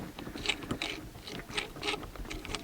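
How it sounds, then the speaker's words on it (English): A shift knob assembly on an Infiniti G35 being screwed together by hand: a steady run of small ratcheting clicks and threaded scraping, close and fairly quiet, with no talk. "And just screw it all together until it can't screw on anymore."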